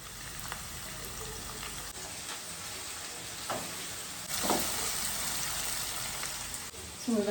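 Onions and green chillies frying in hot oil, a steady soft sizzle throughout with a few brief stirring clinks and a louder burst of crackle midway.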